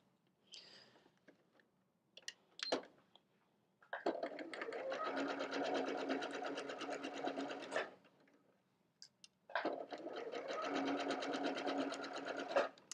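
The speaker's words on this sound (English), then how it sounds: "And you come over and you sew down this way." Sewing machine stitching pieced quilt sections in the spider web method, running in two long steady bursts of rapid mechanical chatter with a few light clicks and handling sounds between them.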